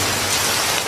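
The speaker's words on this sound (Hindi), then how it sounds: "देखते ही देखते जोरदार बारिश शुरू हो जाती है।" Heavy rain pours down in a village setting, a dense, loud, unbroken hiss of drops hitting surfaces with no gaps or other sounds over it.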